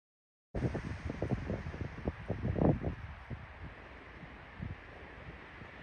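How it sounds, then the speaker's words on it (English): Wind gusts buffet the microphone outdoors during a New Mexico turkey hunt, close rumbling bursts that swell and fade over a constant background hiss. "Still windy."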